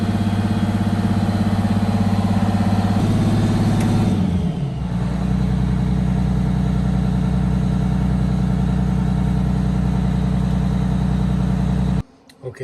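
A Detroit diesel with a blower-driven tach drive runs steadily and close, a loud continuous drone whose pitch shifts briefly early on before settling, then cutting off abruptly near the end.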